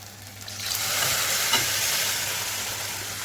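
Mushroom gravy is poured into frying Khandeshi masala and oil, setting off a loud, close hiss that swells within the first second and holds as a dense sizzle, with no voices.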